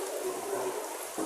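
Rain falls steadily outside a home kitchen, a constant dense patter close by, with a brief louder spatter at the end.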